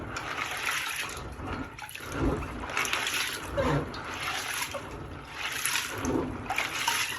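Yellow corn being washed by hand in water, with steady sloshing, trickling and splashing that swells and eases in waves throughout, close and continuous with no talk.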